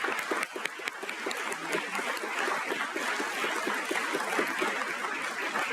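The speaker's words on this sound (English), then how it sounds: "Let's give them a round of applause as well." Audience applause at a Penn State Brandywine spring commencement, honoring the camera and IT crew: steady, dense clapping from a crowd, even and sustained throughout.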